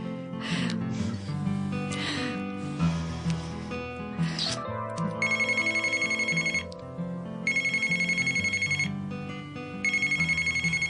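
A phone rings with a melodic ringtone for a call from dad, first under music and voices, then repeating in loud, regular electronic bursts in the second half.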